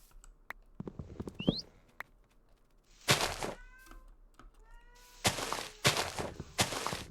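A pet cat meows loudly and repeatedly in several long, drawn-out yowls, close by, with soft computer keyboard typing and clicks in between.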